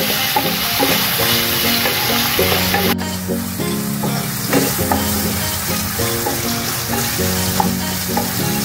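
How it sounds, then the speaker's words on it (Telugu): Cut sausages frying in a pan over a medium flame, with a continuous close sizzle and the rhythmic clatter of stirring against the pan, no voices. "కట్ చేసి పెట్టుకున్న ఈ సాసెస్ వేసుకుని ఫ్రై చేసుకుందాం మీడియం ఫ్లేమ్లో ఫ్రై చేసుకున్నామండి"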